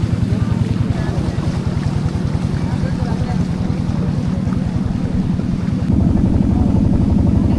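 A motor boat crowded with tourists on Ghuksi Beel, Dhamoirhat, Bangladesh, chugs steadily and close by, a low rhythmic throb over splashing water and wind, growing slightly louder near the end.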